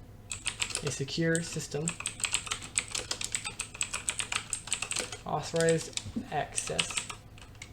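Rapid, steady keystrokes on a computer keyboard while entering switch configuration in a Cisco Packet Tracer activity, a continuous close clatter of typing running under a person speaking.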